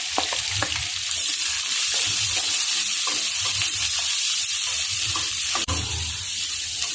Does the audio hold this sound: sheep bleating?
no